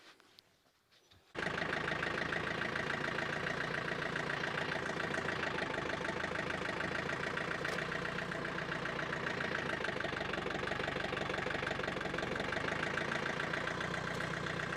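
A gas engine on a firewood setup clatters into a steady idle after a brief quiet start, running loud and close with an even, unchanging chug for the rest of the stretch.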